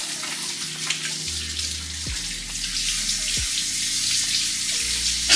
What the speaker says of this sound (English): Now, always gotta wash your hands, you know, get them bacteria germs off it.